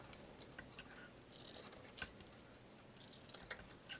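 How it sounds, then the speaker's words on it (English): Scissors snipping paper, a handful of quick, faint crisp cuts spread irregularly across a few seconds, close but quiet, with no talking. "Let's just cut some off here."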